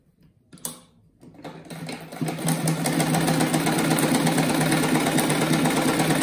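A sewing machine stitches fabric scraps together for a round rag rug, starting after a brief pause and then running as a steady, close mechanical whir with no talking.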